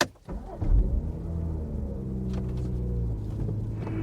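A car pulls away and drives off with three people aboard on a sunny trip to Atlantic City: a steady low engine and road rumble builds after a brief quiet start and then holds evenly, with no talk.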